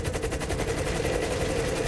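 Rapid automatic gunfire from a video game, a continuous, fast rhythmic burst of shots that fills the whole moment at close range.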